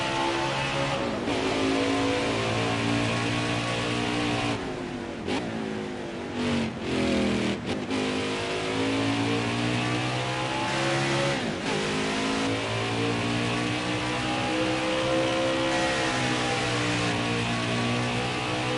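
NASCAR Craftsman Truck Series race trucks roar around Watkins Glen, engines revving hard and shifting through gears as several pass by, loud and continuous over about nineteen seconds with no voices.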